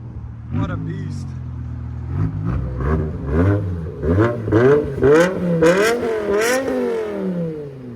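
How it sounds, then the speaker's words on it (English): A BMW M5 with a 5.0L V10 and straight pipes revs repeatedly up close, loud rising and falling engine bursts building in pitch, with a voice faintly present at times. "That's a good sounding car"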